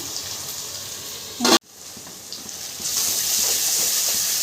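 A tomato mixture for a sardine tamarind curry sautés in a pan with a steady, soft sizzle and hiss, broken by one sharp clatter partway through before the frying noise swells again.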